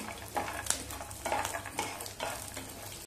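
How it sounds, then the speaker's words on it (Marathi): Masala and cashews stir-fried in a pan, a low sizzle with scraping spoon strokes against the metal, close and moderately quiet, no talking. "त्याच्यामध्ये काजू घालूया आणि चांगलं 1 मिनिटभर आणखी आपण परतवून घेऊया"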